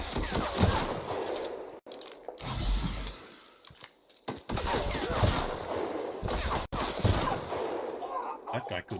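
Repeated rifle shots crack out in bursts during an Outer Worlds fight, loud and close, with short gaps between volleys and occasional voices.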